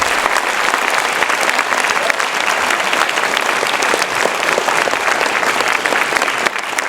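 Applause from a concert audience at INSA Rouen fills the space in dense, continuous clapping, steady and loud from start to end.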